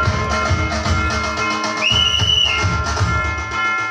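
A single whistle blast, held for under a second, signals the start of a game at a village women's Kojagiri festival gathering, sounding clearly over a busy background of chatter and noise.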